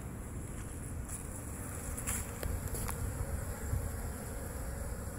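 Honeybees from a living hive, a swarm settled in a community garden, hum in a dense, continuous buzz close by at the top entrance on a February day, with brief louder passes as individual bees fly near.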